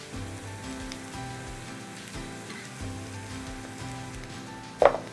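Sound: onions, garlic and flour sautéing in a pan

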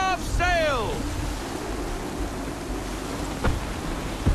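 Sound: wind gusts and waves at sea, Assassin's Creed III video game

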